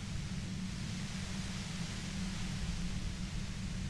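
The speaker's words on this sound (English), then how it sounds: "You hear through the white noise. It's especially bad suddenly." Static hiss from the video game Disco Elysium: a steady, soft wash of rushing noise that stays flat and unbroken, heavier in the low end, with no voices over it.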